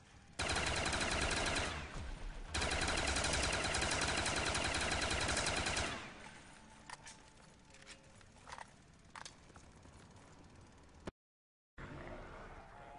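Light machine gun fire in a video game, a loud sustained burst of automatic shots lasting several seconds, then scattered single shots and clatter after a short gap.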